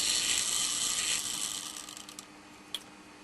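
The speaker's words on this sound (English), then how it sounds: "At least we know we get power, so the motor's alright." A small electric motor drives the mechanism of a Duchess of Atholl model locomotive, giving a steady whirring, ratcheting buzz for about two seconds that fades out, then one sharp click.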